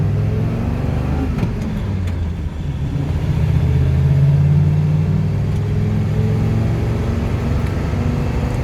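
A 2001 Ford F450 with a V10 and 5-speed manual, downshifting from third to second: a steady, loud low engine rumble that swells briefly in the middle, then settles back to an even drone.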